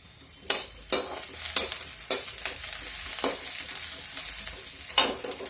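Onion frying in a pan with red chilli being added, sizzling steadily underneath while several sharp scraping stir strokes stand out at irregular intervals, close and fairly loud, with no talking.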